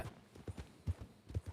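Horse hooves clip-clopping during a ride in the video game RedM, a quick, steady, fairly quiet rhythm of hoofbeats.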